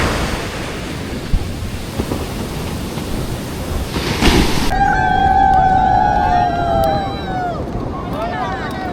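Ocean surf at a crowded Puri beach on a morning roars as loud, wide-band wave noise for several seconds before the sound abruptly cuts to quieter tones, with a voice heard over it.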